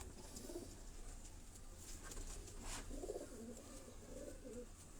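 Teddy breed pigeons coo softly in low, rolling phrases against steady background noise, with a few faint chirps and no talking.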